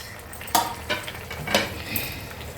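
Fried eggplant pieces drop into a pan of cooking spinach and tomatoes, giving a few distinct clatters and soft stirring scrapes over a faint, steady sizzle.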